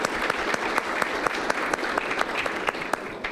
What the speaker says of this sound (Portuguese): Eu queria só pedir uma salva de palmas por esse case